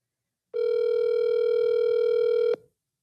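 A steady electronic cell phone tone holds for about two seconds, then cuts off abruptly just before a voicemail greeting.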